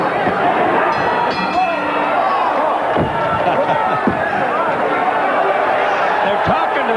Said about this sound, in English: That got the crowd into it.